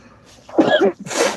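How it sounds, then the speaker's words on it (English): A single close sneeze with a short inhaled buildup, a sharp burst, then a quick breathy trailing exhale. "I'm going to have to sneeze in a minute, I think."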